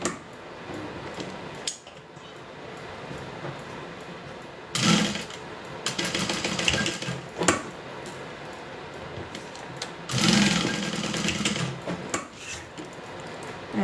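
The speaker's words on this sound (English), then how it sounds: "and then sew along both sides" Sewing machine stitching along both sides of a folded one-inch vinyl strap, heard as two bursts of mechanical whirring separated by quieter handling noises and small clinks.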